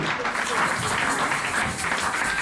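Church congregation applauding, a dense continuous wash of clapping from many hands filling the room at moderate loudness for a couple of seconds.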